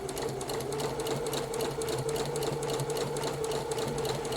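A sewing machine runs steadily while stitching around a blouse sleeve, a continuous close mechanical whir with a fast even needle rhythm throughout, no talking.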